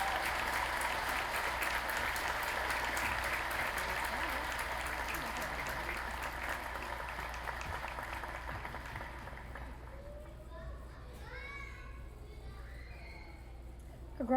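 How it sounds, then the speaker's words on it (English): Sustained applause for two graduating students at a high school commencement ceremony, a broad crowd of clapping that fades away near the end, leaving quieter room sound and faint voices. "Let's give these two wonderful young people another round of applause."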